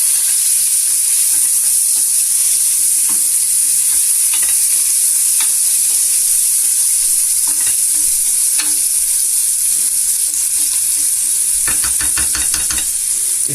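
Beef seasoned with colombo spices fries loudly in a pan, a strong continuous sizzle and hiss broken by repeated scraping stirs and a quick run of knocks near the end.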